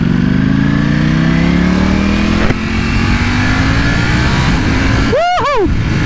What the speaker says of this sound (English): I can't believe I'm riding the brand new 2020 V4S.